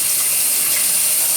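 Steady running tap water gushes continuously as a Hamilton Beach Meal Maker Express grill plate is scrubbed clean beneath it, close and loud with no voices.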